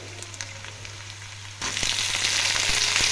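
A quiet pan suddenly erupts into a loud, dense sizzle partway through as brinjal pieces go into a hot pan of cooked masala, and the hiss builds and holds steady to the end.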